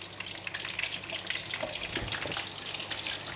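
Cooking oil heats in a pan while a sauce is made for crispy fried fish, giving a soft, uneven crackling sizzle with small pops, close and fairly quiet, with no talking.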